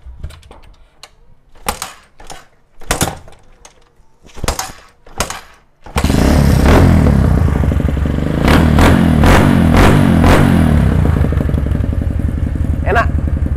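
A modified 2014 Supermoto trail motorcycle being kick-started, a few sputtering attempts before the engine catches and settles into a loud, close, steady idle with rattling mechanical clatter.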